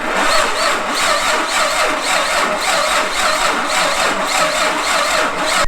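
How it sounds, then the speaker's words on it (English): Nissan Skyline R33 with an RB25DET engine being turned over after months of sitting, a loud, continuous rhythmic churning of the starter and engine, steady and close throughout. "this is the first time we've turned her over in like 3-4 months"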